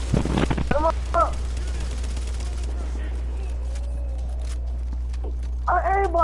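Gunfire in The Division, a few sharp shots and short bursts near the start and end around quieter shuffling and clicks over a constant low hum, with a brief human-sounding cry in between.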